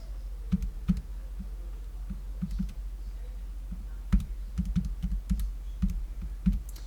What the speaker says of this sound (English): Tippy type that in our calculators.